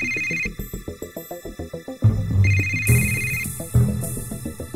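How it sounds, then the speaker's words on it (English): A phone rings in the PS2 game Yakuza, its electronic ringtone repeating in a steady pulsing pattern, then playing on under game music and sound effects. "your phone's ringing. Please don't hesitate to answer."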